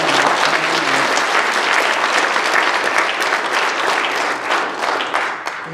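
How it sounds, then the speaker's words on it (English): Sustained applause from a crowd at a Bat Mitzvah, dense steady clapping that fills the room for several seconds, tapering slightly near the end. "give him a great big clap"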